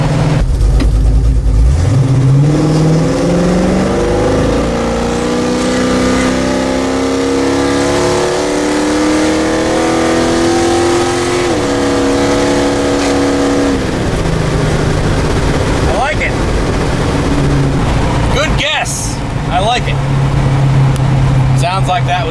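A 455 Pontiac LeMans winding up under hard acceleration, its engine pitch climbing and dropping sharply at a gear change, then revving again, loud and close with a voice talking over it.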